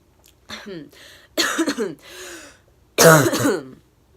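A few throaty coughs and throat-clearing bursts come in separate fits, close and fairly loud, with short pauses between them.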